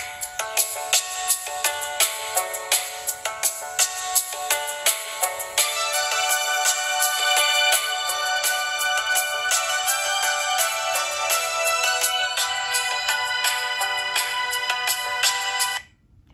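A polyphonic ringtone plays loud and clear through the mono speaker of a Sony Ericsson P5i prototype phone, a rhythmic electronic melody with bright repeating notes running for about sixteen seconds before stopping abruptly.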